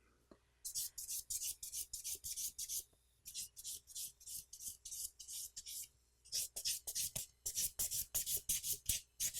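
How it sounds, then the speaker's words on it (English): A nail file rasps back and forth across a fingernail in quick, rhythmic strokes, close up, with two short pauses between bursts of filing. "Hold the finger really firm when you're filing"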